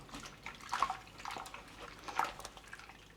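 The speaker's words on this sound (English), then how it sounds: "give it a bit of a swish around in the water" A cross stitch fabric piece swished around in a basin of soaking water, producing soft sloshing and gentle dripping splashes that rise in two brief surges, close and quiet with no voices.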